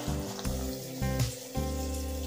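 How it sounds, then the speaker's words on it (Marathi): Hot water is poured over cooking vegetables in a pan for pav bhaji, giving a continuous splashing rush with a couple of brief surges, close by and moderately loud. "यामध्ये घालून घेऊया गरम पाणी."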